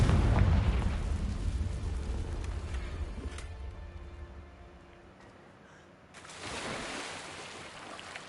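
Confringo blasting spell in Hogwarts Legacy, a loud rumbling explosion that slowly fades over several seconds, then a second booming blast swells near the end.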